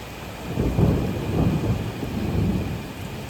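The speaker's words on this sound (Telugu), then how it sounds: "చాలా గట్టిగా పడుతుంది వర్షం ఈరోజు" Heavy rain pours steadily with a deep low rumble underneath, a dense continuous roar that stays loud throughout.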